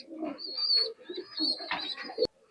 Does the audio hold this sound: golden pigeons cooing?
yes